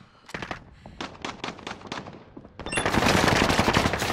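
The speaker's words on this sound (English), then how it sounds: "I'm shooting up there." Rapid automatic gunfire from the Call of Duty: Modern Warfare video game, a string of sharp close bursts that swells into a dense, loud continuous barrage in the second half.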